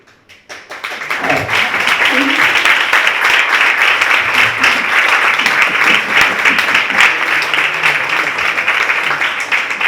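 An audience at a technology conference talk breaks into applause, starting from near silence and swelling within a second into loud, sustained clapping from many hands that stays steady to the end.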